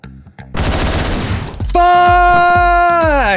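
Shotgun blasts in the Hotline Miami video game, loud and close, with a dense burst of gunfire followed by repeated thumping shots under a sustained droning synth tone.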